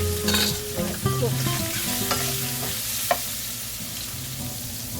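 Spam and ham fry with white pepper for fried rice, a loud, continuous sizzle with spatula stirring and an occasional sharp tap on the pan.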